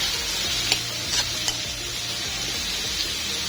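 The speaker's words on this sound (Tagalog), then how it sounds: "Sunod ko naman iginisa itong panlang at saka itong ampalaya." Bitter gourd and vegetables sautéing in a pan make a steady, close sizzle throughout, broken by a few sharp clinks and scrapes of a utensil stirring against the pan.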